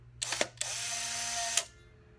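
A Polaroid SX-70 instant camera's shutter snaps with a couple of quick clicks, then a mechanical whirring runs for about a second before ending in a final click.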